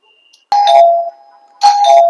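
An electronic doorbell chime rings twice in a quiet room, each a clear two-tone ding-dong, loud and close, with a pause between them and nothing else heard.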